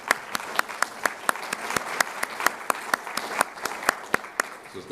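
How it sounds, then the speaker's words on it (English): Spontaneous audience applause at a university report event, sharp separate claps rising and falling steadily throughout, fairly close and moderately loud, with no talking over it. "This is spontaneous applause,"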